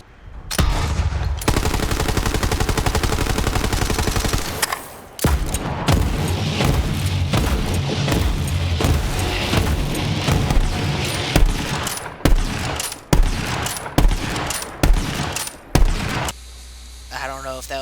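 A long volley of gunfire for a 101-gun salute in the train simulator Trainz, dense rapid shots running continuously, then a brief pause and scattered separate booms toward the end.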